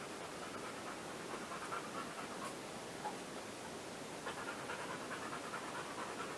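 A dog panting heavily outdoors while it runs around, rapid steady breaths continuing close by and fairly quiet against soft open-air background noise.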